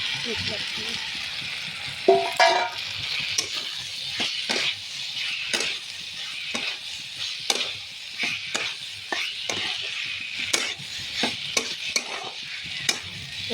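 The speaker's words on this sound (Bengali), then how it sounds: "আলু পটল রাখা আছে ভাজা সেগুলো একটু কষে নেবো" Potatoes and pointed gourd stir-fried in a pan make a soft, steady sizzle, punctuated by repeated sharp scrapes and knocks of a spatula against the metal, while someone talks over the cooking.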